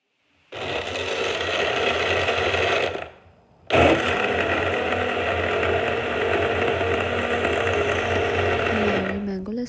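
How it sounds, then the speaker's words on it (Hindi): Kitchen blender whirring steadily as it blends mango lassi, loud and continuous, pausing briefly for a second before restarting and running on to the end. "इसे ब्लेंड करूँगी।"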